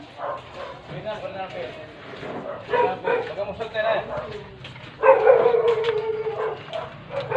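Several dogs bark and yip at a moderate distance in a flood-hit area, with people calling out greetings over them during a food-pack handout; a louder burst of barking joins near the end.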